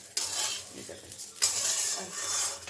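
Rice frying in a pan for pulao, a continuous sizzle with scraping stirs of a metal spoon against the pan, loud bursts as the grains are turned, no talk.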